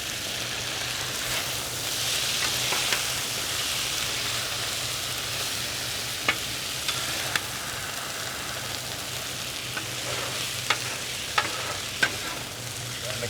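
Beef and broccoli stir-fried with tongs on a Blackstone griddle in spicy sauce, a continuous close sizzle under scattered sharp clicks and scrapes of metal tongs.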